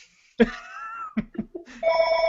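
A telephone rings in the night, its electronic tone breaking in sharply, then a few short bursts before a steady ringing tone holds to the end, close and loud with no talk.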